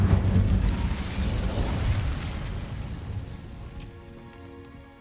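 An Incendio fire spell cast in Hogwarts Legacy bursts with a loud, crackling whoosh of flame that is strongest at the start and slowly fades over several seconds, with no talking.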